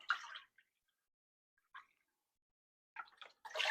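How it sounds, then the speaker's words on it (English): Vegetable broth poured into a Dutch oven over a medium flame, three cups added in turn: short, close splashing pours in separate bursts with quiet gaps between them, no voices. "we're going to add 3 cups of vegetable broth"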